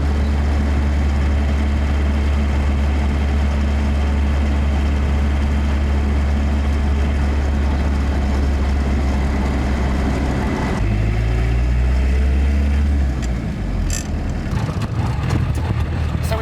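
A Land Rover's engine drones steadily while driving on roads around Bristol, a loud continuous low rumble that shifts pitch partway through as the vehicle changes speed.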